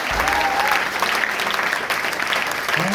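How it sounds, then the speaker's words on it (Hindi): A crowd at a career guidance talk bursts into loud, sustained applause, a dense wash of clapping that stays even for a few seconds with a brief voice underneath at the close. "जोरदार ताली बजाओ इसके लिए"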